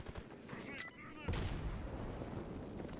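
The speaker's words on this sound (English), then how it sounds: "I guess I'll throw a, like, nade up there, maybe?" A grenade detonates in S.T.A.L.K.E.R. GAMMA as a sudden deep boom that rolls into a sustained rumble. It follows a brief voice and some gunfire-like crackle, all fairly quiet.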